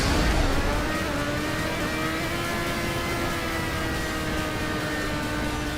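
Open-wheel R88 and PR4 race cars in GTA Online, a steady high-pitched engine whine holding near full throttle, loud and close for the whole stretch with no pauses and no talk.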